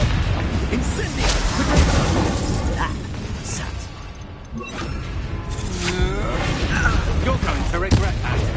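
Spell blasts go off in a Hogwarts Legacy duel: Bombarda, Confringo and Incendio, a run of booming explosions and fiery bursts with a voice shouting over the noisy combat.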